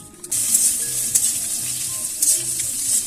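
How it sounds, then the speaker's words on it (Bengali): Potato pieces fry in a pan of hot oil while browning for bhuna khichuri, a steady close sizzle with occasional stirring clinks and scrapes. "আলুটি মোটামুটি বাদামি কালার করে ভাজলে এর মোটামুটি ভাজা হয়ে গেছে।"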